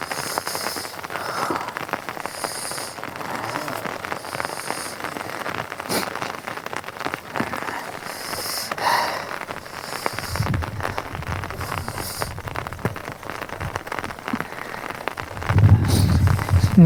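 Heavy rain drums steadily on a camping tent, close and dense throughout, with a deeper rumble swelling near the end.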